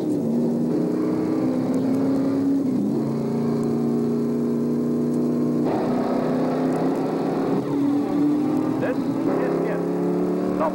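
Race cars on the final lap roar with sustained engine drone and shifting pitch as they speed along, loud and continuous, with an announcer talking over the noise.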